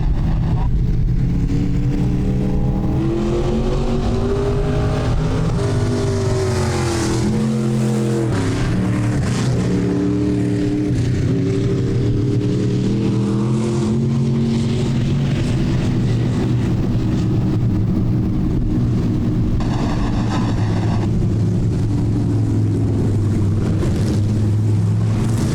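Stock cars roar around a track during a heat race, several engines droning and rising and falling together in a steady, loud pack with no pauses.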